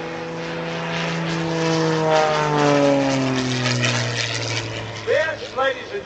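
A propeller-driven aerobatic airplane flying air show maneuvers, its engine drone rising and falling in pitch as it passes and turns, loud and continuous, with a crowd or commentator's voice faintly underneath.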